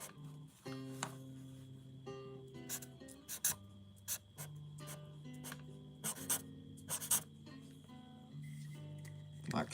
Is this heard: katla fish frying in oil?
no